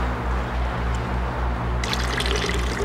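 Liquid is poured steadily into a container in a continuous trickle under a low rhythmic background hum, with a brighter splashing fill toward the end and no talk.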